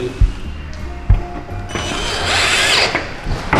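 Power drill driving screws into a cabinet with a glass upper section and solid lower section: dull knocks give way to a loud, steady whirring buzz, heard close up.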